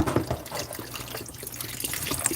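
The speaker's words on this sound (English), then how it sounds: "So, now the bone broth is going in" Bone broth pours into a pot for chicken soup, making a continuous close, gurgling liquid stream. It runs unbroken for a couple of seconds with no talking.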